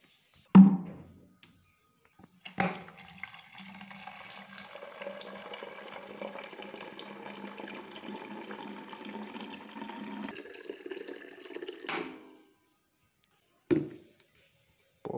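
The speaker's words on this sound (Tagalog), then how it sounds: "Tubig." Water runs from a tap into a container for about nine seconds, a steady broadband stream with a louder splash at the start and end, framed by short knocks and quiet gaps.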